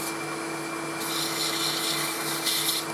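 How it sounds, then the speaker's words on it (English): Sanding the ends of a wooden pen on a lathe gives a steady abrasive hiss over a constant motor whine, growing rougher and brighter as the paper presses against the spinning wood. "I'm just going to start the sanding here"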